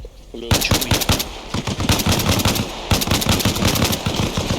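Rapid, loud machine-gun bursts fill a firefight in the military game Arma Reforger, dense overlapping automatic fire close by with a brief lead-in before the shooting starts.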